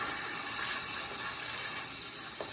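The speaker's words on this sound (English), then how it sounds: "We're gonna spray that out with some brake clean real quick" Brake cleaner sprays in a steady, close hiss onto an engine part of a Yamaha Big Bear 350 ATV, a continuous aerosol rush with no talking.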